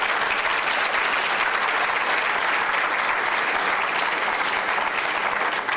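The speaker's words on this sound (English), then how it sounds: "Please, let's give them another round of applause." Dense, steady audience applause at an education conference, loud and continuous throughout with many hands clapping at once and no talk over it.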